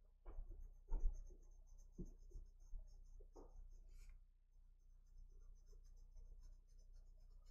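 Faint scratchy strokes of a Luminance colored pencil on paper while coloring a round glass jar, soft intermittent scraping with a few louder bursts, close and quiet.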